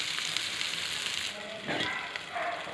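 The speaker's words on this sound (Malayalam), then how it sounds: "അപ്പോൾ ഇത് നല്ല രീതിയിലൊന്ന് മുരിച്ച് ഫ്രൈ ചെയ്തെടുക്കാം." Chicken coated in Kashmiri chili paste fries in a pan for a Kerala dum biryani, a close, bright sizzle that crackles steadily, easing slightly then flaring again.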